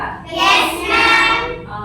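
Children in a Nali Kali classroom clap a rhythmic routine, close and bright, in two quick bursts of hand claps with no talking.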